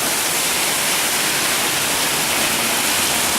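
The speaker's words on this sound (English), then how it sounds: "Oh yeah, it's pouring now." A thunderstorm brings heavy rain, a dense, loud, unbroken roar of falling water close around, with no voices and no distinct thunderclap.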